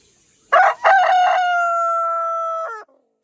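A tame rooster crows once, loud and close, with a short opening note followed by a long sustained call that cuts off cleanly, heard alone.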